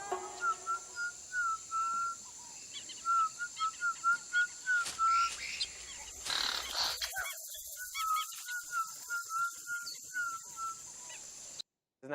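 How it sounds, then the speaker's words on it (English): Whistled Piraha speech: a run of short, rising and falling whistled syllables in quick phrases, pausing midway amid a burst of noise, then resuming in another clear whistled string. "Piraha can be spoken, hummed, sung, even whistled."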